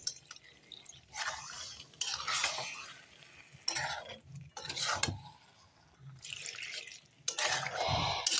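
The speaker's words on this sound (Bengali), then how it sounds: "হাফ বাটি আমি এখন জল দিয়ে দিলাম।" Half a bowl of water being added to chicken cooking in a pot, with faint splashing, dripping and stirring clinks of a utensil against the pan, close and intermittent.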